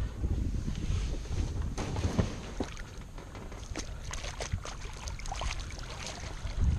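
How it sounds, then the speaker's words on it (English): Wind gusting over a SunDolphin kayak on Prettyboy Reservoir on a summer day, a steady rushing buffet with light water lapping and scattered knocks against the hull, no voices. "It's a little windier than I was expecting today"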